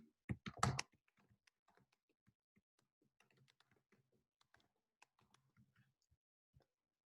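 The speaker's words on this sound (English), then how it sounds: "I'll type in a short description" Fingers type on a computer keyboard, opening with a louder cluster of clicks and then continuing as soft, irregular keystrokes in a quiet room.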